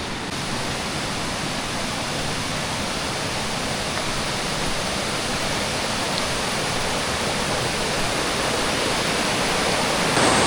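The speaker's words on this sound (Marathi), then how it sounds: "आपण दुसरा धबधबा बघायला जातो" Loud, constant roar of a waterfall near Anuskura Ghat after rain, a dense rushing wash of water that holds steady throughout without pause.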